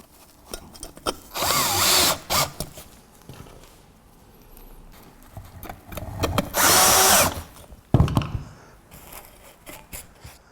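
Power drill perforating insulation on assembly hooks during a siding panel installation, heard as several loud whirring bursts of one to two seconds separated by quiet gaps and light handling clatter.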